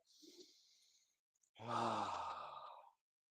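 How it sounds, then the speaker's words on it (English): A person takes a deep breath in during a livestream, a soft inhale followed by a long, loud, close exhale lasting over a second, with no talking. "I definitely think it's time for another breath, and I hope everyone will join us"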